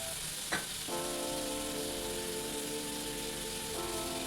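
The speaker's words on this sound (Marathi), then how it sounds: "आता आपण तेलामध्ये सोडायचे आणि छानपैकी असं फ्राय करून घ्यायचं" Bombil fish and onions frying in oil: a steady close sizzle with a sharp clatter early on, and a sustained tonal hum running under the hiss through most of the stretch, with no talking.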